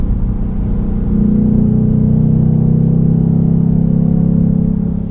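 A Ford Mustang GT's 5-litre Coyote V8 revs up in sport mode and holds a loud, deep, sustained exhaust drone for several seconds, then eases off slightly.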